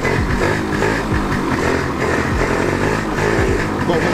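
A Yamaha Riva Razz scooter engine revs hard and sputters as it bogs down, a steady close buzzing drone with uneven dips in pitch throughout.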